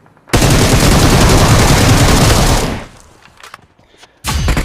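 Sustained rapid automatic gunfire from a video game, loud and close, stopping abruptly, followed by a few scattered clicks, then another burst.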